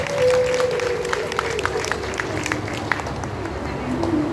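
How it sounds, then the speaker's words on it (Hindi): A gathered audience at a Shiva Mahapuran religious discourse applauds the women present, a continuous rolling patter of clapping over crowd murmur, with a sustained tone underneath. "इन मातृशक्तियों के लिए जोरदार तालियां बजाई जाए"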